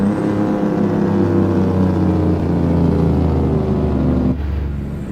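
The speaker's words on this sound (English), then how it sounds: "that was a beautiful Jake brake sound, by the way." Caterpillar C18 diesel truck engine in American Truck Simulator, a loud, steady low rumbling drone of the Jake brake with even pulsing that holds for about four seconds before dropping off abruptly to a softer engine hum.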